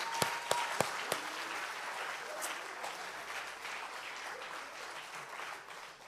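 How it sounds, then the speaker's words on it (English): At a Friday night Shabbat service, a few sharp, separate claps open a moderate round of applause for a birthday, which continues as softer, steady clapping in a room, with faint voices mixed in. "Let's give Damien a round of applause."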